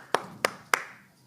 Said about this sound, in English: I guess we're doing a little early clap there.